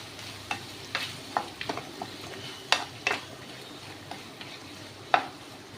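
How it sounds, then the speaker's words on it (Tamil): Potato and brinjal frying in oil make a soft, low sizzle, punctuated by scattered clicks and scrapes of a utensil stirring the pan at close range. "இப்போ இதை எண்ணெயிலே ஃப்ரை பண்ணி விட்டுருங்க"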